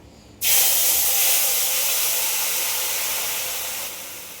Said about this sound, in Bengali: চাটনিটা এখন ফোড়ন দেবো আমি